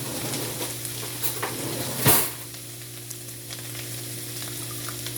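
Turkey chili with kidney beans sizzles steadily in a pot while a spoon stirs it, one louder scrape and clatter standing out against the constant close frying hiss.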